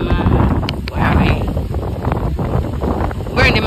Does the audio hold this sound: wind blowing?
yes